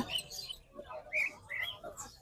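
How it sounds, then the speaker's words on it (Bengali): Soft, high chirps from several cockatiels at a bird market in Mirpur 13, Dhaka, faint and somewhat distant, scattered over low background noise. "এখানে সুন্দর কিছু পাখি আছে কোকাতল পাখি"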